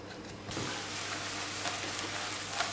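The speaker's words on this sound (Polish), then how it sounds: "Naszą cebulę podsmażamy około 5 minut na naszej patelni razem z czosnkiem." Onion and garlic fry in butter in a pan. After a quiet half-second, a steady even sizzle begins abruptly and holds, close and moderate, with faint stirring and no voices.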